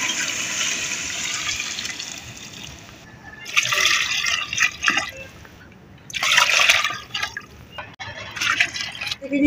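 Water pours into a large pot of fried potato, pea and carrot mix for a village-style pulao, coming in bursts of splashing and gurgling trickles with short pauses between pours.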